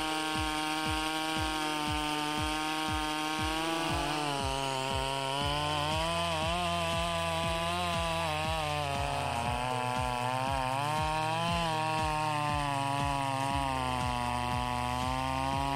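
Stihl chainsaw with a 5.2 horsepower motor cutting through a large old oak log: a loud, steady engine whine that rises and falls as the chain bites, with rapid pulsing throughout and no talk.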